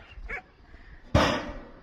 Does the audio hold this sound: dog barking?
yes